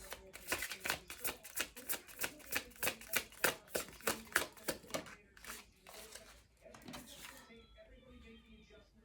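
Tarot deck being shuffled by hand in a quiet room, a rapid run of about twenty sharp riffling card snaps in steady rhythm, close and clear, slowing to a few softer flicks and settling near the end.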